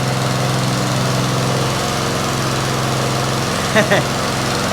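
A 1991 Stiga Multiclip lawn mower engine, smoking, runs steadily at close range, a continuous droning hum with a brief clatter near the end.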